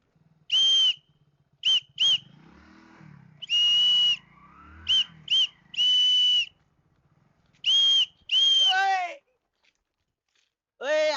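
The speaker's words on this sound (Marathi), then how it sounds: "तुला शिट्टीचा आवाज येतो का नाही" Sharp, shrill police whistle blasts from a traffic policeman sound repeatedly, some short pairs and some held longer, loud and close, with muffled talking and crunching between them.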